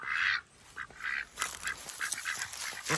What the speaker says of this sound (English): What are those ducks doing?